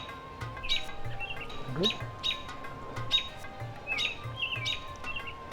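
Wild birds calling at a nature park near a bald eagle, repeated sharp chirps and whistled tweets in bursts over a low steady background, with a brief word spoken.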